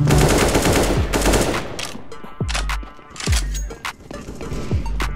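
Loud automatic gunfire from CS:GO comes in a rapid burst at first, then a few separate sharp shots with short gaps between them, close and punchy.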